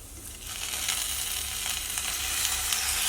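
Salted lime stirred into a lemon pickle masala in a pan gives a steady close sizzle and frying hiss that swells slightly, with soft stirring scrapes throughout and no talk.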